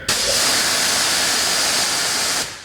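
An Adam's Pro Series electric pressure washer blasts a strong, steady hissing spray of water for about two seconds, loud and close, then cuts off abruptly.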